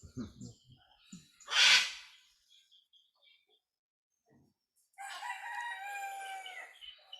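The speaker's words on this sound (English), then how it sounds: "listen to the birds." A rooster crows once, loud and close, then after a pause a second crowing or bird call rings out with harmonic, drawn-out tones.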